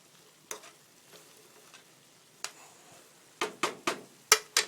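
Shrimp and beef stir fry being stirred in a pan, a quiet background sizzle broken by sharp spatula clacks, sparse at first and then clustering into quick repeated strikes near the end.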